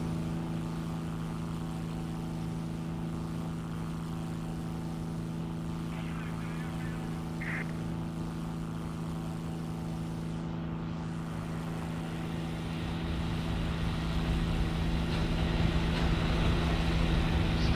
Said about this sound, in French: on voit le moteur gauche, il est en train de s'éteindre